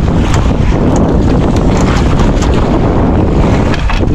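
Strong northeast monsoon wind buffets a small fishing boat at sea, a loud, constant roaring rush over the microphone with churning water beneath it, no speech.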